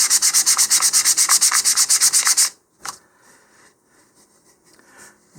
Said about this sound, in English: you can continue doing this and sand all the way so that seam's gone